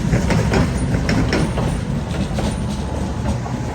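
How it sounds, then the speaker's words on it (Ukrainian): A tram running through Dnipro in winter, a loud, steady rolling rumble with rhythmic rail clatter, close by and continuous throughout. "Бачите, у нас ось так в Дніпрі працює трамвайчик."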